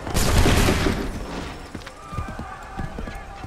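A ragged musket volley in Assassin's Creed 3 Remastered crackles at the start, then fades into scattered shots and thumps with background commotion.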